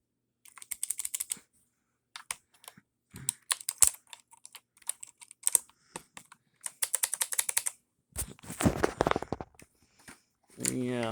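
Keys clatter on a Rii K61C mechanical gaming keyboard with blue switches: irregular bursts of crisp, clicky keystrokes, close and fairly loud, separated by short pauses.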